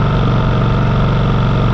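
A Champion 4500 inverter generator runs steadily near idle while charging an RV, a loud, even engine drone with a low rhythmic pulse holding constant throughout, no voices over it.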